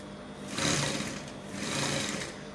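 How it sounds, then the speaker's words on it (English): Sewing machine stitching corset boning at a lacing bar, a steady close mechanical whir that swells in two faster runs, with no voices. "So I'm going to be sewing."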